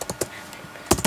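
Brief keyboard typing, a few scattered clicky keystrokes, close and fairly quiet, with a quick double tap near the end; no talking.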